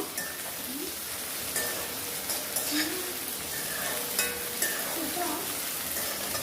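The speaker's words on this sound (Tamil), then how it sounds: "இப்போ கொஞ்சம் தக்காளியும் இதில் வதக்கிக்கிடலாம்." Tomatoes being sautéed in a pan, with a low, fairly quiet sizzle and a few soft stirring scrapes. Faint background sounds drift underneath.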